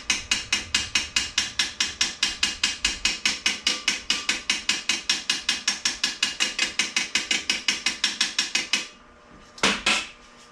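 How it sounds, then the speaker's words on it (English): Rapid, evenly spaced metallic taps of a brass hammer on stainless steel car trim, dozens in a steady rhythm, close and fairly loud, then stopping with a couple of softer knocks after. "I'm going to use the brass end of the hammer"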